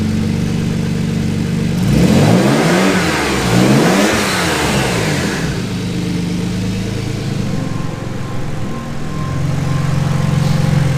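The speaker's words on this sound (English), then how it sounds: "What happens when I rev it?" Twin-turbo Ford Capri with a 2.9 Cosworth engine, oil pressure low when hot, revving loudly up from idle twice, rising and falling in pitch with a turbo whine, then settling back to a steady idle, close by.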